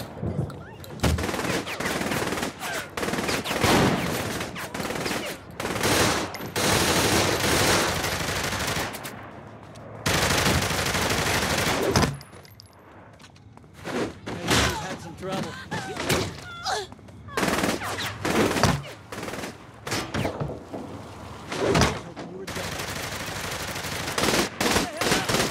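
Bursts of automatic gunfire from Saints Row 3 Remastered, loud and close, rattling in long volleys separated by brief pauses across the stretch, with a voice talking occasionally between shots.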